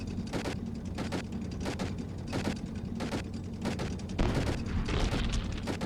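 Unit gunfire in the tower-defense game Toy Defense 2: a rapid series of sharp shots in irregular bursts, repeated over a steady low battle rumble, fairly close and loud.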